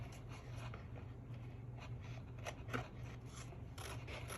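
Scissors cutting a paper flap for a junk journal at a slight angle, making faint, soft snips and rasping paper rubs in a quiet room, with no talking.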